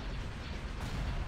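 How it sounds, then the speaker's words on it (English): Velocity cannon firing in the Star Wars Empire at War video game, a faint, muffled boom that blends into a low rumbling background, heard alone without talk. "Velocity cannon firing."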